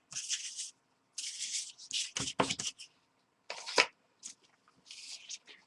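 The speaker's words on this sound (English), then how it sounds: "we'll use a plastic card and we'll play with the paint" Acrylic paint spread with a plastic card: repeated scraping, rasping strokes in bursts of under a second, with a few sharper taps between, close and moderately loud.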